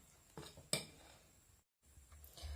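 A spoon stirs a yeast mixture in a bowl for homemade bread, giving a few soft scrapes and two clinks against the side, then a brief pause and some quiet handling noise.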